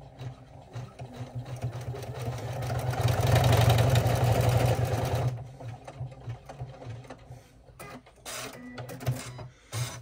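An embroidery machine runs a fast stitch on a mini tote bag in a single hooping, a close, loud rapid needle chatter that swells mid-clip, then stops, followed by softer intermittent clicks and taps.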